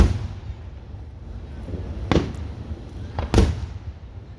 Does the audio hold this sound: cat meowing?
no